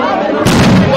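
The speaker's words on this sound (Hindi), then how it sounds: "भैया ये पटाखे बंद करवा दो" Firecrackers burst suddenly and loudly at a crowded Karnataka Assembly election political gathering, a sharp blast cutting through the ongoing crowd murmur about halfway through.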